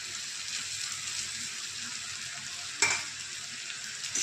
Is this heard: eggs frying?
yes